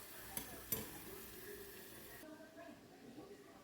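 Breaded shrimp and fish frying in hot oil, a soft steady sizzle with a couple of sharp clicks early on, fairly faint and dropping lower partway through.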